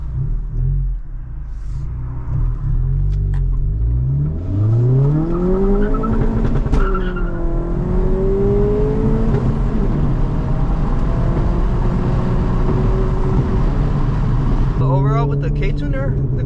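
Steady engine rumble of a tuned 2022 Honda Civic Si on the road, with revving rising and falling, loud and close throughout, and a brief burst of voice near the end.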